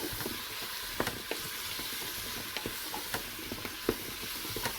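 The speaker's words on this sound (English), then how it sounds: "I'm going to blend it all together and saute it now." Beef bourguignon ingredients sautéing in a pan: a quiet, continuous sizzle with occasional soft scrapes and taps as they are stirred, and no voice.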